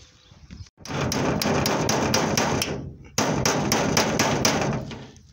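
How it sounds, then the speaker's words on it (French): A reciprocating saw rasps through aluminium with a harsh, rapid rhythmic chatter in two loud runs separated by a brief pause. "Et après, il y a la technique brutale avec la scie sabre."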